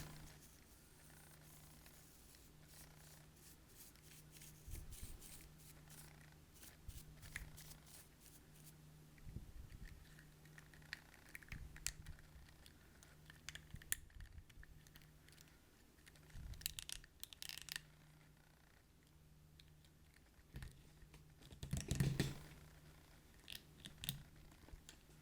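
Soft brush bristles sweeping over a NECA Godzilla toy figure, a close, quiet scratchy swishing in irregular strokes with occasional louder brushing bursts and faint handling noises.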